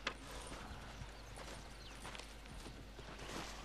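Horse hooves clip-clopping in Red Dead Redemption, faint irregular steps over a low ambient background, no voices.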